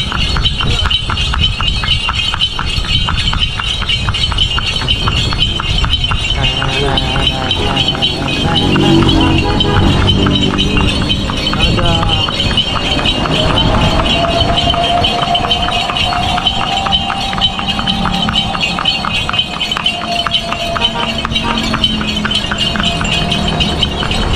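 Horse hooves clip-clop at a steady trot as a delman cart rolls over smooth asphalt in Bantaeng, South Sulawesi. The hoofbeats sit within continuous road and wind noise, with some voices in the background.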